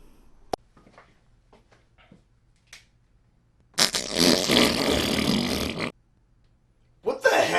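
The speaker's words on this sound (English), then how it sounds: "Markers that sound and smell like farts." A novelty fart marker advertisement delivers sharp pops and clicks, then a long, loud, raspy fart lasting about two seconds, with another burst starting at the very end.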